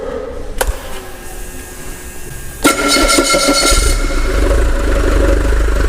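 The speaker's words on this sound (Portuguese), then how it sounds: "Vamos lá então, vou dar partida no motor." A diesel engine on a training bench is cranked over after a quiet stretch with a single click, then catches and settles into a steady, loud, clattering idle.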